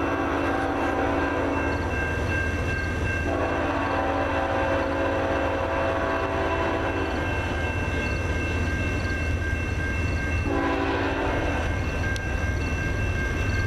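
A southbound CN Q196 freight train rumbles past close by in Ladysmith, its continuous heavy rolling noise broken by two long, loud horn blasts several seconds apart.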